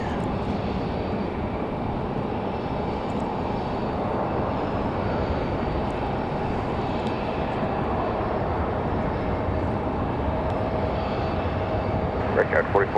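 A Republic Airways airliner lands on runway 5 left at Raleigh-Durham on a windy evening, its engine noise a steady broadband roar mixed with wind that holds throughout at moderate distance.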